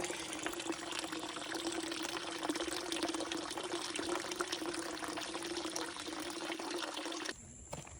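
Steady running water flows continuously at moderate level on a mountain, a constant broadband rush that drops off abruptly near the end.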